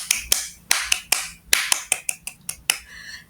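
Group Pramuka scout clapping at a Scout Day gathering: sharp, close hand claps in an irregular rhythmic pattern, about a dozen hits over a few seconds with brief gaps between clusters.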